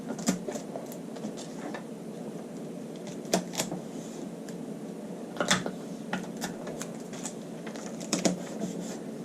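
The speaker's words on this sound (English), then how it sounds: "I'm going to go ahead and tape that down there." Tape is pulled and pressed down onto a paper blouse pattern, a run of faint, close crackles and sharp little ticks scattered irregularly over a quiet room.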